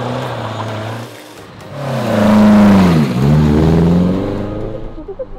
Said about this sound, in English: chucking the Escort around the airfield